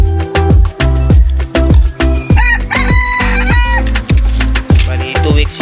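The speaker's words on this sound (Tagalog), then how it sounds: "Pure labuyo talaga ito mga ka-hunter." Red junglefowl (labuyo) rooster crowing loudly and close, its crows mixed with a rapid run of repeated clucks, with no talk over it.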